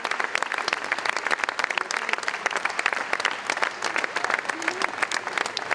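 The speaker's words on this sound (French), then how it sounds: "Je crois qu'on peut l'applaudir." A hall audience applauds at a rugby league tribute, with sustained, crisp clapping from many hands and voices murmuring underneath.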